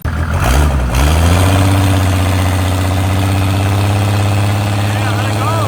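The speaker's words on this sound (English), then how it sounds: "That wastegate is loud. It built a lot of boost." A turbocharged car engine with a loud wastegate, apparently a Mercedes OM-series diesel or LS1 V8 in a drag lineup, drones loud and steady at idle after a brief rev, close up.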